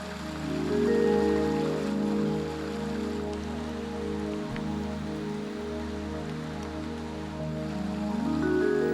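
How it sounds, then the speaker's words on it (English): Heavy rain pours down through a primordial mossy forest near Shangri-La, a dense steady hiss of drops on leaves and ground, loud and continuous with a low droning hum underneath. "the rain has started to pour down"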